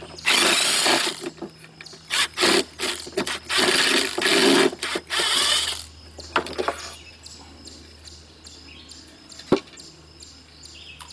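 A Ryobi power tool, used while mulching a garden, runs close and loud in several short bursts over the first six seconds, then stops, leaving quieter handling clatter and one sharp knock.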